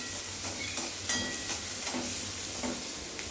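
Onions being stirred in a hot cooking pan, a soft steady sizzle with a few faint scraping strokes of the spoon repeating every second or so, close and fairly quiet with no talking.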